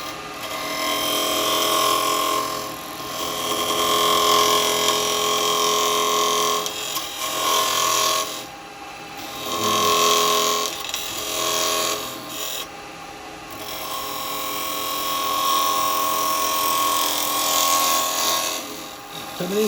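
Wood spinning on a lathe for a toothpick holder as a square chisel cuts it, giving a continuous whirring, scraping tone that dips briefly in a few spots and then carries on steadily.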